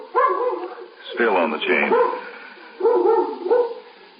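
A dog barks in a 1953 police radio drama, a short run of close barks in the middle of the scene, set between and under spoken dialogue.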